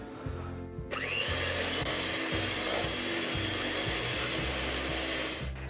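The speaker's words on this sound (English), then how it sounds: "Now I'm going to mix this for about 2 minutes." An electric mixer whirs steadily as it beats buttercream with a little added cream, a constant buzzing drone lasting several seconds with faint rhythmic knocking underneath.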